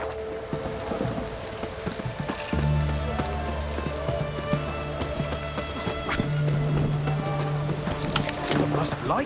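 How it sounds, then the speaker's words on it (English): Heavy rain falls in The Witcher 3 as a steady broadband patter with low ambient hum, while a voice speaks over part of it. "What a downpour."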